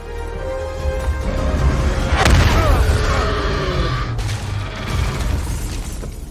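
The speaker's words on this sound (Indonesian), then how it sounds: "Davis melemparkan sabuk granat ke leher Lizzie" A grenade belt goes off in a monster movie about a gorilla, a loud broad blast at mid-clip with a sharp crack and debris, set within a continuous rumbling action soundtrack.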